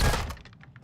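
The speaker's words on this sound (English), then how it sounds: "I heard glass break again." Glass breaking in the video game Warzone 2 DMZ: a loud crash at the start, followed by a quick scatter of smaller tinkling shards fading over less than a second.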